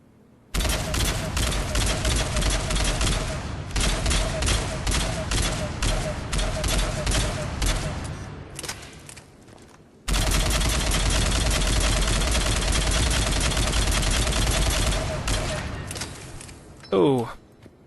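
Phaeston assault rifle in Mass Effect 3 firing in rapid bursts, a dense, loud crackle of repeated shots with brief pauses between bursts, ending in a short mechanical reload-like sweep.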